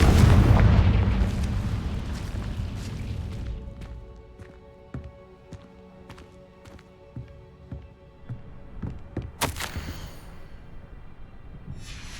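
A Confringo blasting spell goes off in Hogwarts Legacy, a loud booming explosion with a rumbling tail, followed by scattered sharp pops, debris clatter and another bright burst near the end.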